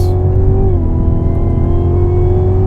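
A 2016 Cadillac CTS-V engine revs hard up close on a track, a deep throaty roar holding steady with a slight dip in pitch partway through.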